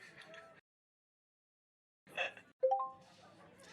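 A short bright chime sounds as a halfway warning during a speed date, a couple of clear rising tones following a brief voice. Quiet talk comes before and after it.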